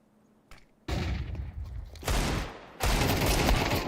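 Desert Eagle pistol fire in a Counter-Strike match, heard as loud, sharp bursts of gunfire after a faint start, with heavy blasts at roughly one, two and three seconds amid dense overlapping shooting.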